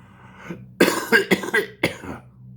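A short run of close, harsh coughs from someone with a cold, four or five in quick succession, after a small throat sound.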